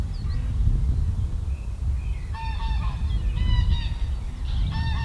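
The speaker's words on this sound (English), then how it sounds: "Ignore the birds." Geese honk in bursts of repeated calls beside a quiet fishing lake, moderately near, over a low outdoor rumble.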